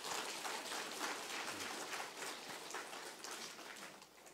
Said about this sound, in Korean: 그럼 다시 한번 박수 한번 하십시오